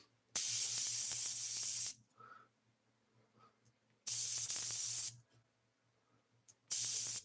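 Three separate bursts of an airbrush or spray gun laying white paint onto white paper, each a loud steady hiss lasting about one to one and a half seconds, separated by short quiet gaps.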